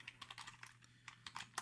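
Rapid, light clicks of a computer keyboard as C# code is typed in Visual Studio 2019, quiet and close with an irregular rhythm and no talk.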